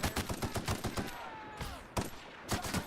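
Rapid gunfire in The Outer Worlds video game, with a grenade launcher in the fight: a fast run of sharp shots, a whooshing sweep in the middle, then more bursts, all fairly quiet and without talk.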